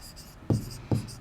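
Pencil drawing a rough sketch on paper, heard as two short, close scratchy strokes about half a second apart over quiet room noise.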